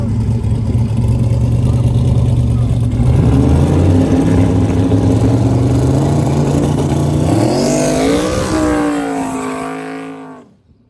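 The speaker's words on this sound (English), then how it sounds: "Smoky burnouts on both sides of the racetrack." Ford and Chevrolet hot rods doing smoky burnouts at a drag strip, engines roaring loud and steady, then revving upward in pitch before cutting off abruptly near the end.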